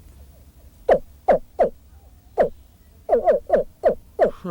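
A man imitates an alligator call over a lake or pond with deep grunts from the stomach, about ten short, loud grunts spaced irregularly, some in quick bursts, heard alone.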